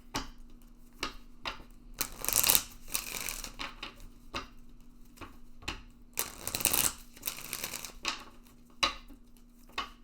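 Tarot cards being shuffled to draw a clarification card: two longer, louder riffling bursts separated by quieter scattered card taps and slides, close up, with no talking.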